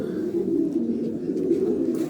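Pigeons cooing steadily in a loft, a continuous low throaty murmur of several birds close by, with no voices.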